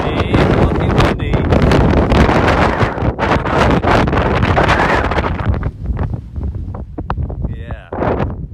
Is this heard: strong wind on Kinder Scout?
yes